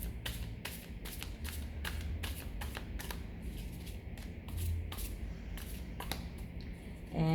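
A tarot deck, the larger gilded-edge edition, shuffled by hand in a steady run of crisp riffling card slaps and soft sliding, close and alone, with no talking.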